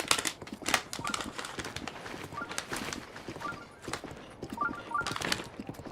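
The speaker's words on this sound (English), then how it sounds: "I'm just going to let the horse do the work." A horse clip-clops through Korok Forest in Zelda: Breath of the Wild. Its hooves strike in a rapid, steady rhythm that stays clear and close throughout, with faint game ambience behind it.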